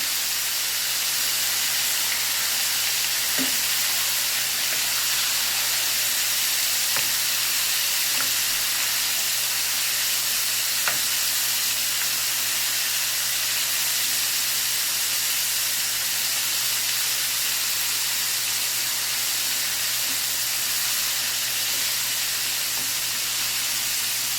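Shrimp deep-frying in hot oil in a pot, a steady broad sizzle and hiss that continues without a break, with a few faint clinks as the pieces are moved around.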